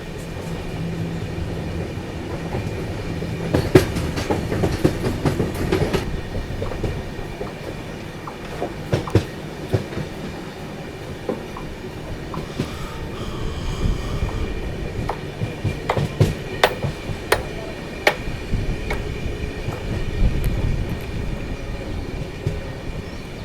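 Train 17423, the Tirupati–Chikkamagaluru express on its first run, rolls forward along the railway with a continuous low rumble. Scattered sharp clicks and metallic ticks from the wheels and carriage ring out over the rumble, with no talking.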